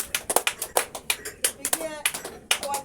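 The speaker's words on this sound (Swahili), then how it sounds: "Tupigie makofi mazuri." A church congregation claps in quick, uneven bursts after a sermon, dense hand-claps close by with a few faint voices mixed in.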